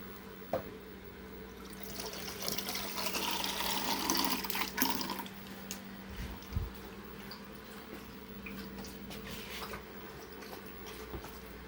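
Water from a refrigerator dispenser runs steadily into a pitcher, a soft continuous trickling fill that swells slightly midway, heard fairly faint over a low household hum.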